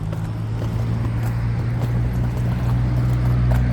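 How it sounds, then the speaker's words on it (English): A Toyota Land Cruiser drives along a city street in Japan, its engine a steady low droning rumble heard close and continuously, mixed with faint street noise. "a Land Cruiser making Land Cruiser noises"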